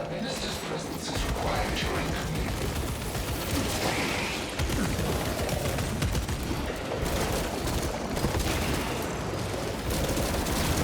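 Bolt pistol in a Warhammer Space Marine shooter game: dense, continuous gunfire with crashing impacts and mechanical clatter throughout, loud and close, with combat noise blending together and a voice talking over it at times.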